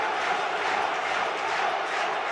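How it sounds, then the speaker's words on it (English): A rugby stadium crowd at a Heineken Cup quarter-final roars continuously, a broad, unbroken wash of distant massed voices with no breaks or individual calls standing out. "Just listen to the crowd."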